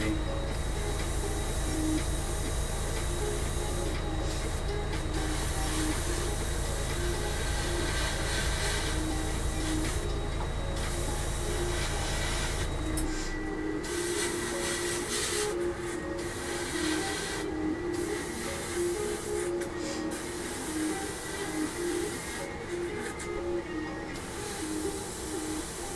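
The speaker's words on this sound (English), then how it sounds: "Just give her a little spray." Aerosol spray hissing onto a part of a Tamiya 1/32 scale F-51D Mustang model, a steady continuous close hiss lasting throughout with a low rumbling hum that drops away midway.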